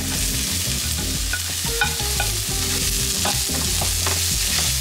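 Garlic and onions frying in a pan at medium-high heat, a loud, steady close sizzle with scattered pops and the scrape of stirring, no voices.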